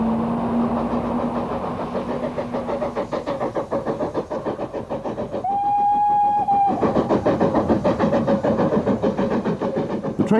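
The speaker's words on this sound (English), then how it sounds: "The train then climbed Tenterden Bank to the terminus of the line at Tenterden" A Terrier steam locomotive hauling a special train up Tenterden Bank on the Kent & East Sussex Railway in 1958, with a steady rhythmic chuffing and a sustained whistle blast midway.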